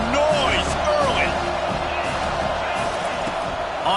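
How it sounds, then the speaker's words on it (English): A football video game stadium crowd roars as a constant dense wash of noise, with cheers and whoops swelling now and then, heard close up under ongoing commentary speech. "This crowd bringing the energy and noise early."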